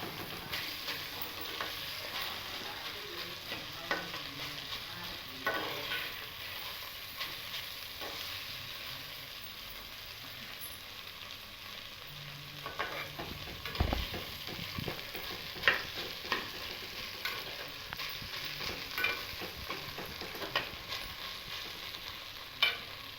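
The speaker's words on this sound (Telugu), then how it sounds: "మంచిగా ఇలాగ వేగాలి." Ivy gourd chutney ingredients fry in a pan, giving a continuous soft sizzle with repeated utensil scrapes and taps while being stirred, with no voices.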